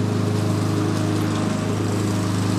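A 1973 Ariens snow blower with a 7HP Tecumseh engine runs steadily, a loud close continuous small-engine drone with no pauses.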